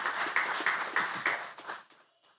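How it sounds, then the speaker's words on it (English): Audience clapping at a community budget consultation in Sandy Point, steady applause for a video presentation that fades out after about two seconds. "you should give that video production a clap"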